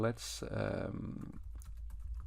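Computer keyboard typing while entering server code for a REST API, a quick run of clicky keystrokes following a brief spoken word, close and moderately loud.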